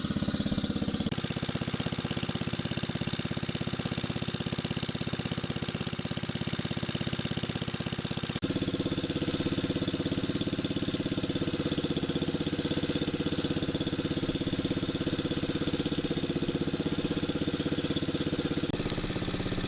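A homemade generator, a car alternator driven by a 3HP rototiller engine, runs at a steady small-engine drone with constant mechanical knock, heard from about fifty feet away, with a slight shift in tone partway through and no talking.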